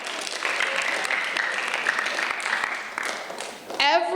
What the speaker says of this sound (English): yes, applause for Ms. McKeever